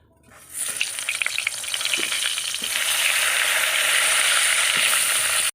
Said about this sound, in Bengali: এবার আমি বেগুনগুলো ভালো করে ভেজে নেব